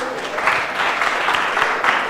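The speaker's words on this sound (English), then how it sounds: "Can we all clap for Audande?" Audience at a Turkana women representative debate in 2022 claps steadily and fairly loudly for about two seconds, a dense patter of hands with no talk over it.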